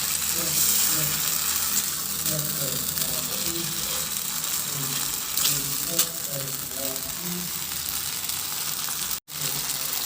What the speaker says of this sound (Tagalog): Isunod ko na ilagay yung hipon.